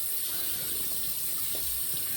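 Tap water running steadily to rinse a Feather DX Shavette razor at a sink, a close, continuous splashing gush with no one talking.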